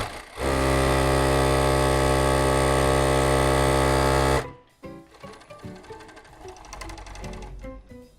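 A Jack W4 sewing machine stitches in a loud, steady mechanical run for about four seconds and then stops abruptly. Softer handling clatter and rustling follow.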